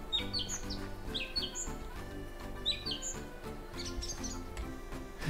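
A small bird in a room chirps in repeated short, high tweets. The calls are faint and sit over a steady low hum and rhythmic background music.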